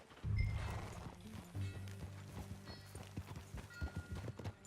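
Horse hooves clip-clop in a loose walking rhythm in Red Dead Redemption 2 over a low rumbling backdrop, fairly close, with occasional creaks and thumps.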